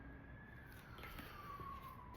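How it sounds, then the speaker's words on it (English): A faint emergency vehicle siren wails outside in the distance, a thin steady rising and falling tone heard briefly over quiet room background. "Siren again."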